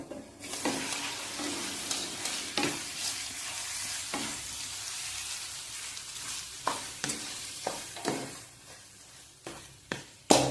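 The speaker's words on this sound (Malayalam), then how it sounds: "അത് നന്നായിട്ട് ഒന്ന് ഇളക്കി മിക്സ് ചെയ്ത്" A coconut and fish roe mixture is stirred in a pan, the spoon scraping and knocking in irregular sharp strokes over a steady low sizzle, close and moderately loud throughout.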